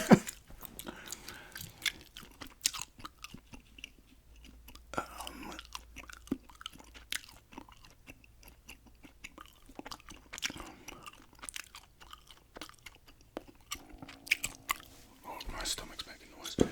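Close, wet gum chewing with soft crunchy smacks and clicks repeats steadily throughout, mixed with quiet murmured talk close to the microphone.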